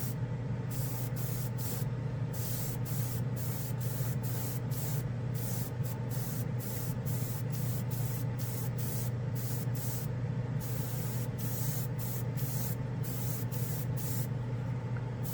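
Short bursts of Tamiya spray paint hiss from an aerosol can in a steady series of quick pulses, each a bright rush of spray separated by brief gaps, over a constant low background hum.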